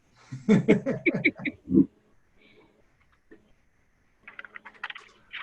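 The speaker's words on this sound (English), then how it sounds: "Hold on, I'm typing something." Keys on a computer keyboard tap in short, soft clusters during an online meeting, the first burst mixed with a chuckle and a later run of clicks coming alone and close.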